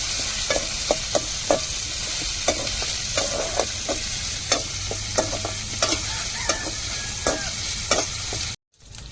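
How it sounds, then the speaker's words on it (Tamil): Curry leaves sizzling in hot oil along with onions in a pan, a continuous crackling fry punctuated by regular sharp scrapes and taps of a spoon stirring, close up; it cuts off abruptly near the end. "கருவேப்பிலை சேர்த்துக்கிடுவோம்."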